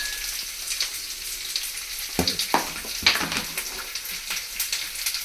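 Moringa leaves and egg sizzling in a little oil in a pan, a steady close crackle with a few louder spatters and stirring scrapes, no voices.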